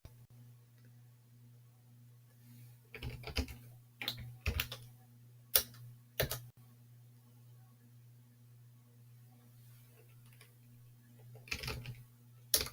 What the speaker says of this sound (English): Then you can type Chuck Norris and a username